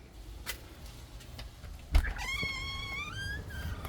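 A friendly cat meows in a drawn-out, rising cry with a couple of following mews, close by over quiet outdoor background noise.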